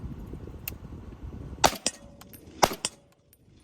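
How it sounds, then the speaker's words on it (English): An FN SCAR 17 rifle fired unsuppressed outdoors, three sharp, loud shots spaced about a second apart over faint background noise, with no voices. "I'm gonna shoot a couple rounds unsuppressed"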